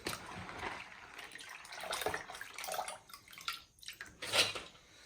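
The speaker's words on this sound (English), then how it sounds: "So I'm going to sieve it out from the soaked water, pass it on to a pot." Soaked soybeans and their soaking water poured through a sieve into a pot, a steady close splashing gush of water with rattling beans, rising and falling over several seconds.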